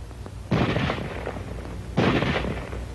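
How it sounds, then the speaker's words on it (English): A small arms weapon fires in two loud, near bursts about a second and a half apart, each a rough crackling volley that fades into lingering echo and background noise. "let's look at weapons which have both automatic fire and semi-automatic fire"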